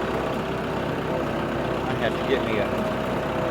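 A farm tractor engine idles with a steady low rumble close by, continuing throughout while someone talks over it.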